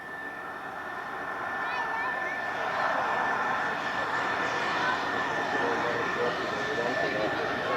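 Jet aircraft flying past at an airshow, a broad sustained roar that swells and holds loud across the pass, with a steady whine running through it and no voices over it.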